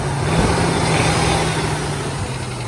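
Engine of a third-generation Toyota 4Runner, in need of a new engine, running steadily with a low droning hum and broadband roar, loud and close throughout with no clear rev swell.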